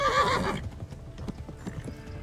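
Horse clip-clop hoofbeats and a whinny from a mount in the medieval video game Kingdom Come Deliverance, a loud neigh up front giving way to a steady rhythmic gallop of thudding hooves.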